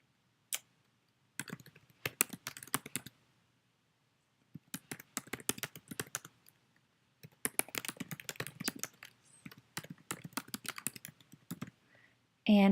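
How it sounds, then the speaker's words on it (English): Computer keyboard typing in bursts of rapid clicking key presses with short pauses between, close and fairly clear, while entering text into a form on a web platform. "So you're going to type in your title or your bundle."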